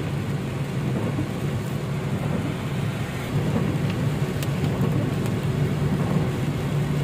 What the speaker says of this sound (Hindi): बारिश ज़्यादा है